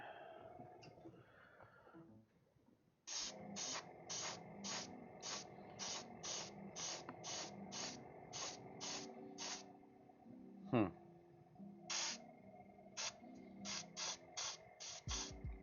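A spray can mists paint onto a model Mustang 350 GT H in repeated short bursts, about a dozen rapid hisses, a pause, then several more, close and fairly faint.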